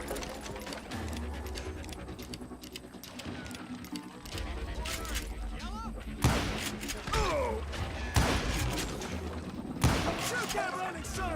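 Gunfire in the Western shooter Call of Juarez: Gunslinger: scattered loud shots, sharp cracks around the middle and end, within a busy battle mix with hoofbeats, music and voices talking throughout.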